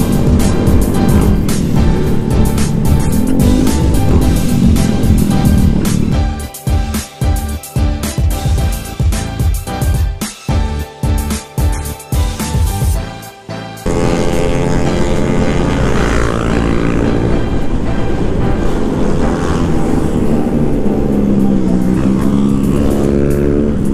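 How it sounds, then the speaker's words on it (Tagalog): Racing scooters such as a Mio Soul on Corsa tires at an endurance race, heard as loud, sustained engine drone and whine with a stretch of choppy, pulsing roar from bikes bunched together, close and continuous. "Puro scooter yan."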